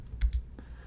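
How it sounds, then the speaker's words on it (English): A few quick keystrokes on a computer keyboard as a terminal command is typed, heard as two or three close, crisp clicks followed by quiet. "we can do that by typing in here"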